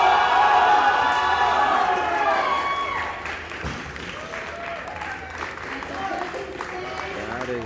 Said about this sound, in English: You can hear the crowd cheering up for him